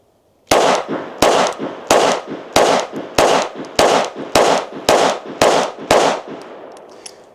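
Ten rapid, loud gunshots from an S&W Bodyguard 2.0 .380 pistol firing 95 grain ammunition, evenly spaced in a quick string, each crack followed by a brief echo, then a short trailing rattle.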